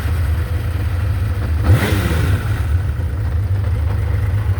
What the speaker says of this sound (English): Got a beautiful sound, these 6-cylinder engines.